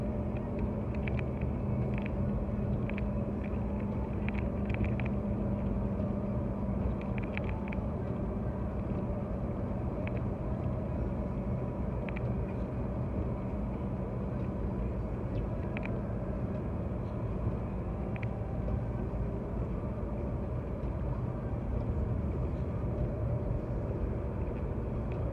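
A car creeping slowly along an icy, snow-covered highway during a spring snowstorm near Thunder Bay, with a steady low engine and road rumble throughout and faint ticking in the cabin.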